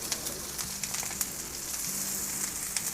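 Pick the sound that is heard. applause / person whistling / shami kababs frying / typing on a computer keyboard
shami kababs frying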